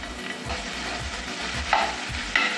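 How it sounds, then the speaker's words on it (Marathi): Crushed garlic sizzles steadily in hot oil in a pot, with a few soft scrapes as it is stirred, moderately loud and close, with no talking. "आता आपण त्याच्यात लसूण ठेचून घेतलेला आहे, तो टाकून घेऊया."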